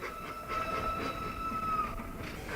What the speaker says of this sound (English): we shall be drawing into the platform where the centenary train will be greeted by Mr. Roger Webster